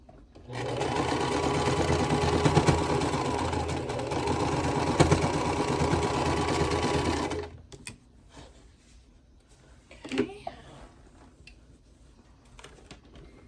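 A sewing machine hums and chatters steadily for about seven seconds, stitching sashing onto a quilt block, then stops, leaving quiet handling noises and a brief rustle.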